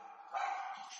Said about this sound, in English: Our dogs are downstairs and they're being real obnoxious.